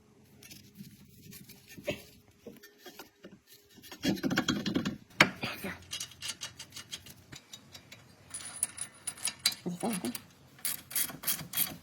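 Ratchet work on a Volvo steering rack tie rod end, giving irregular clicks and metallic ticking over about twelve seconds, with bursts of louder handling and tool noise in between.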